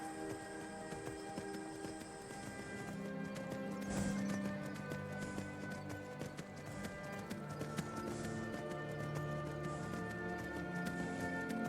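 Horse hooves galloping in the video game Skyrim, a steady rhythmic drumming of hoofbeats throughout over faint background music, moderately quiet.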